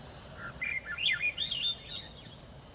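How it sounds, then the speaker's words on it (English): A single Swainson's thrush sings a series of fluty phrases that spiral upward in pitch. It is clear against a quiet forest background. "sometimes it's like 10, 20 Swainson's thrushes just singing at the same time"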